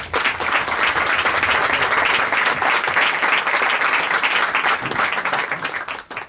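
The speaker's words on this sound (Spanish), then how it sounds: "les pido un fuerte aplauso para hacer la palabra" Audience applause at a Spanish book presentation: dense, sustained clapping from a room full of people, steady for several seconds before fading out at the end.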